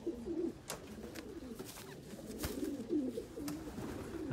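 Racing pigeons in a Barcelona-area loft keep up a steady low cooing, soft throaty phrases recurring every second or so from nearby birds, with light background clicks and no voices.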